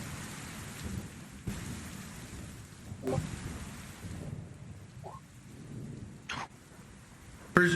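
A thunderstorm at sea with steady rain, a low continuous rumble and a few sharp thunder cracks, the loudest one arriving at the very end.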